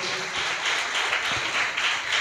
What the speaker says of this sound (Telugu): అందరూ ఒకసారి చప్పట్లు కూడా దేవుని స్తుతించండి